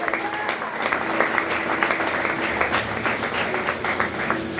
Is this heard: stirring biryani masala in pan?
no